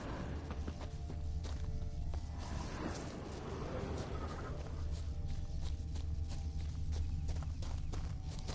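Horses walking in a video game, with a soft, continuous clip-clop of hooves fairly distant, over a low background hum and faint rustling.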